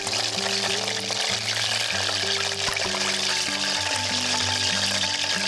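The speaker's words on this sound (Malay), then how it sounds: "goreng 2 kali sebab malas nak overload ayam bila goreng" Oil sizzles and crackles steadily as chicken fries in a pan, with a constant bubbling hiss and no voices.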